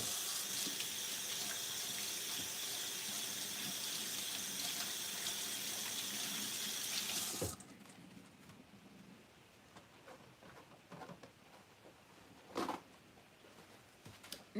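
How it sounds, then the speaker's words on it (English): Tap water runs steadily into a sink while hands are washed beneath it, a broad continuous rush that cuts off abruptly halfway, leaving quiet room tone with a few faint clinks and one brief louder splash. "I'm going to wash my hands"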